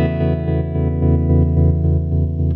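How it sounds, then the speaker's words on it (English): An electric guitar plays through a Princeton amp emulation on an XFX 3 with plate reverb and a Native Audio Rising Sun optical tremolo, a sustained chord pulsing in steady rhythmic swells, loud and alone. "With a bit of plate reverb."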